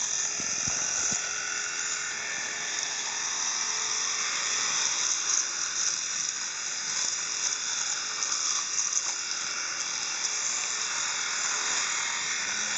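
A Philips Aquatouch rechargeable electric shaver buzzes in a steady, high, whining drone while shaving in the shower, close and continuous with slight fluctuations in intensity.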